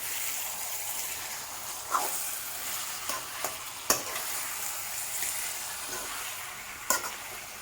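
Chicken and tomatoes fry in a pan with a constant soft sizzle, while a spoon stirs and scrapes them in several brief, irregular knocks.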